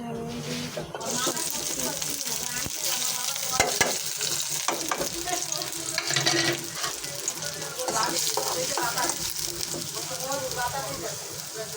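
Boiled eggs fry in a pan with a dense, steady sizzle and frequent stirring scrapes throughout, while a voice talks in the background.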